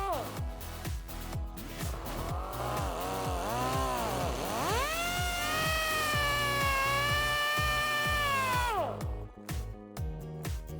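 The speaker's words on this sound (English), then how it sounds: "grab a pair of safety glasses and a cutoff wheel and make a notch in this bracket" A cutoff wheel notches a metal bracket during a Jeep Wrangler JK lift kit install. Its high whine bends and wavers as it bites, then holds steady before spinning down and stopping near the end.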